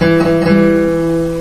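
A single acoustic guitar chord rings out clearly and sustains evenly, bright and clean without buzzing.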